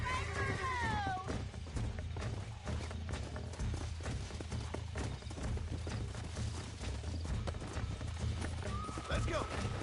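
In the Red Dead Redemption video game, a horse's hooves clip-clop in a steady rhythm, with a loud whinny at the start and another near the end, amid game sounds and voices.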